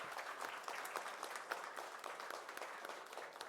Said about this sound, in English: Round of applause for the mentor,